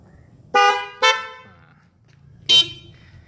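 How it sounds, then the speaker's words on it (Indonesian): Three loud horn toots from a Honda PCX scooter, model year 2018, being tested: two close together, then a third after a pause, sharp and near with faint background noise. "Lalu tes klakson."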